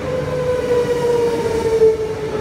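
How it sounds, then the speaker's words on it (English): An EMU electric train on the Brisbane City Shorncliffe service pulls into a platform at Birkdale Station, its motors giving a loud, steady electric whine over a rolling rumble, close by. "coming into platform number one with Brisbane City Shorncliffe train, front half EMU 66"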